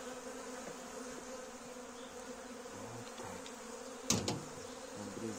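Honeybees hum steadily at an opened hive during early-April spring expansion, a dense close buzz throughout, with a brief clatter of handling near the end and someone speaking briefly.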